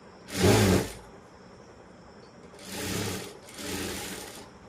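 A sewing machine stitches kurti fabric in three bursts, the first loud and the next two softer, with quiet gaps between them.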